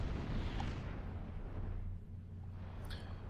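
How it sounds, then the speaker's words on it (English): Bombs from a Supreme Commander 2 bombing run explode in a heavy, rumbling wash of low booms that rolls on steadily and eases slightly near the end, with no talking. "Fail bombing run on that mass point"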